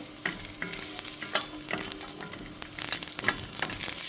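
Two fresh chilies roast in a pan with a continuous close sizzle, punctuated by repeated scraping and tapping of a stirring utensil.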